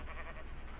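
A Minecraft sheep gives a single short bleat, faint and brief, with nothing else around it.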